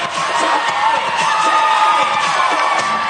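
A roller derby crowd at a Dallas Derby Devils bout cheers loudly and continuously, with whoops and shouts from many voices, including children, blending into a dense roar.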